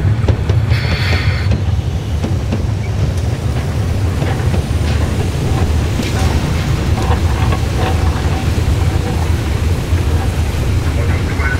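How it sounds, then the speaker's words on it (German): Narrow-gauge steam locomotive 99-17-41, hauling old-style coaches on the Weißeritztal line, pulls into Dippoldiswalde station with a loud, continuous rumble, wheel clatter and a bright hiss of steam throughout. "Weitere zwei Tage später war 99-17-41 mit dem Altbauwagen unterwegs, hier bei der Einfahrt in Dippoldiswalde."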